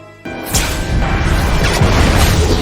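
A sudden loud boom as gas ignites after a door yanks a cable and shorts it, followed by a sustained roaring crash and rumble that fills the space without fading.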